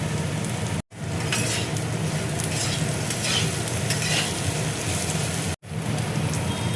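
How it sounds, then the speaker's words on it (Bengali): Okra (bhindi) fries in a kadai with turmeric and salt, a dense continuous sizzle with scraping stir strokes throughout, close and steady, broken by two brief silent cuts. "ভিন্ডি দেখো ভাজা হয়ে গেছে,"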